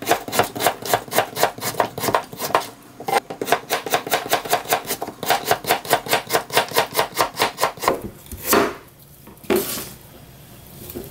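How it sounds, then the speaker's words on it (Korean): A kitchen knife slices a halved 200 g radish into flat pieces on a cutting board for crab soup. It makes a steady, rapid series of crisp chops, then a few scattered, slower cuts at the end, with no talk. "그리고는 조금 납작하게 썰어 줄게요."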